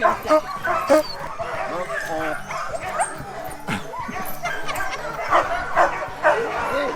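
A dog yips and whimpers in repeated short bursts, with a few sharper barks, as a harness is put on it for an outdoor dog-sledding activity, while people talk nearby.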